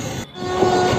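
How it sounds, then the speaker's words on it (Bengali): Malda Intercity train departing Howrah, a short loud burst of rumbling rail noise with a steady horn-like tone running through it. "দেখতে পাচ্ছ ইতিমধ্যে আমাদের ট্রেন ছেড়ে দিয়েছে"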